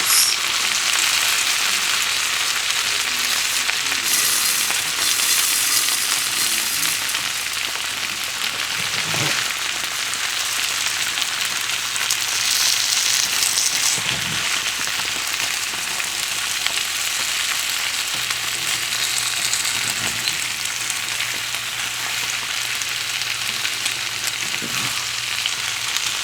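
Potato slices with onions fry in a lidded pan, a steady broad sizzle like light rain that runs throughout, with a few faint knocks and no talking.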